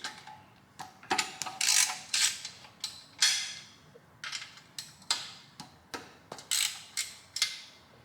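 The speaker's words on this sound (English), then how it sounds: "I'll actually use the ratchet to break it loose." A ratchet wrench breaks a bolt loose on a 5.3 engine, giving a rapid series of sharp metallic clicks in short bursts, close and fairly loud, with no talking.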